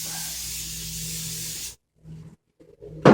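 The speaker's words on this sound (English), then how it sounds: "I spray my palette." Steady hiss of a spray can or bottle misting a screen printing palette, about a second and a half of continuous spray, followed by a short pause, faint handling sounds and a brief sharp clunk at the end.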